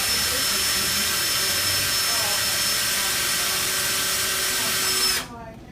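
A power drill bores mounting holes into a patio door frame, whining steadily and loudly for about five seconds before cutting off abruptly near the end.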